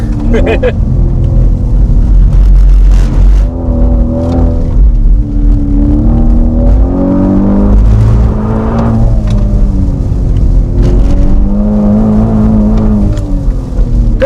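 Aston Martin Formula 1 safety car driven hard in slippery conditions, its engine roaring loud and close with gear changes and revs rising and falling throughout, while people talk over it.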